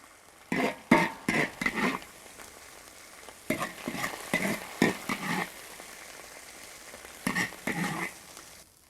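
Chopped chili sauce stir-fried in a wok: a run of scraping, sizzling strokes in uneven bursts, close and moderately loud, with short pauses between clusters of stirring and no voices.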